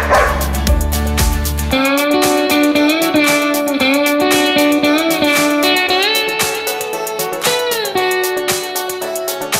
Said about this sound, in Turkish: Köpekler havlıyorlar.